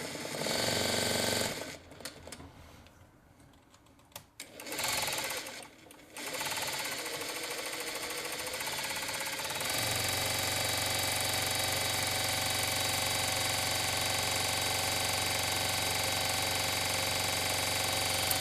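A Vevor M2 industrial sewing machine winding a bobbin, running up to high speed: a steady, loud mechanical whir and buzz that stutters and slows early on, then settles into a constant drone.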